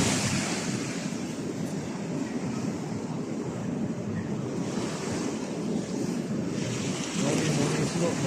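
Ocean waves wash in and out in a steady, broad roar with wind buffeting the microphone, surf swelling slightly louder toward the end.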